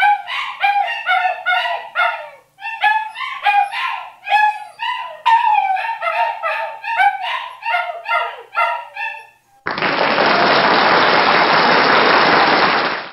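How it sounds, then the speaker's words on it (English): A dog barks and yips repeatedly in quick, excited runs, close and loud, followed by a few seconds of broad hissing noise. "Or that you're double barking."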